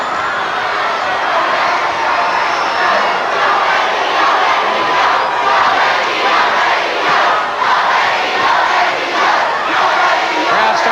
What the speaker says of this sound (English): Crowd starting their chant.